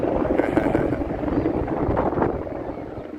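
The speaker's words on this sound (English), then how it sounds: "Here comes that helicopter. Helicopter's coming back." A helicopter flies over Navy Pier in Chicago, a loud low rotor roar that swells and then slowly fades, with city street noise and wind buffeting the microphone.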